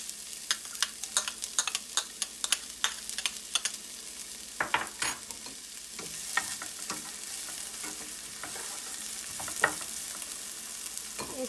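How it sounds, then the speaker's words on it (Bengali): Chopped onions fry in hot refined oil in a wok, giving a continuous crackling sizzle dotted with frequent sharp pops and spatters, fairly close and without speech. "তেলটা গরম হয়ে গেছে, এর মধ্যে দিয়ে দিচ্ছি পেঁয়াজ কুচিটা।"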